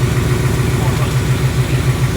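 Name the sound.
2018 Ford Mustang engine idling with a ticking sound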